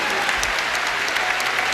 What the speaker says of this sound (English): we are applauding those who survived cancer